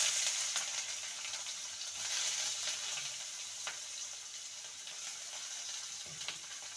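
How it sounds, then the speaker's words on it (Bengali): Garlic and chopped onion fry in a pan with a bright, even hiss and occasional small pops and clicks throughout. "রসুনটাকে কয়েক সেকেন্ড ভেজে নেব। দিয়ে দেবো পেঁয়াজ কুচি,"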